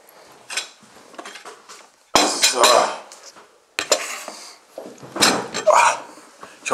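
Cutlery clinking and scraping on plates while eating a breaded, pan-fried meal, close and loud in several clattering bursts separated by short pauses.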